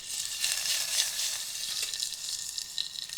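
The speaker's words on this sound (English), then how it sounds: "oh, listen to that sizzle" Steady crackling sizzle of food frying in a hot pan at a wild campsite, continuous and fairly close, with no talking.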